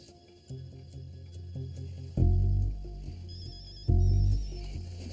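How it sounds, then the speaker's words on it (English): A mobile phone ringing in a tense drama scene, its electronic tone repeating in a steady pattern alongside heavy low musical hits and swells, with no talking. "That's his phone, isn't it?"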